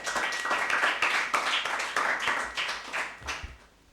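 Round of applause from a school quiz audience, a dense, fairly close patter of many hands clapping that holds steady and then thins and fades near the end.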